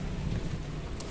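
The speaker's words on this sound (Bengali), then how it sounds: "বৃষ্টির জন্য আটকা পড়ে গেলাম, বেরোতে পারতেছি না।" Steady rain falls outdoors on a street during a morning downpour, a dense, continuous hiss of drops heard close by with no talking.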